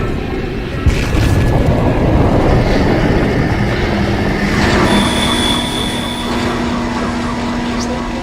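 Tram in the sci-fi horror game Dead Space rumbling and rolling on rails, a loud, steady grinding drone with a sharp start, metallic squeals and a faint tone, voices briefly heard.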